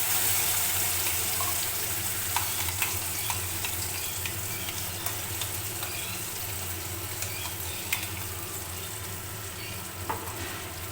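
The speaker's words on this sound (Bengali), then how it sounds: "এই পেস্টটাকে এবার আমি তেলের মধ্যে দিয়ে দেবো। তেলটা গরম হয়ে গেছে, ওইটা তেলের মধ্যে দিয়ে দিই।" Bean paste for sim bata sizzles and fries in hot oil in a pan, a steady continuous crackle with occasional soft stirring clicks and no talking.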